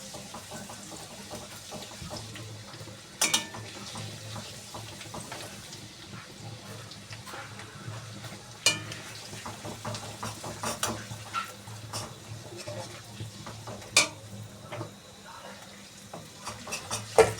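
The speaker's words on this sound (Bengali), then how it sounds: "চিলি চিকেনের জন্য এখানে আদা কুচনো, রসুন কুচনো, ক্যাপসিকাম, কাঁচা লঙ্কা, রসুন দিয়ে দেবো।" Chopped ginger, garlic, capsicum and green chilli frying in a pan for chili chicken, a low sizzle under repeated spatula clacks and scrapes, with several louder knocks against the pan spread through the stretch.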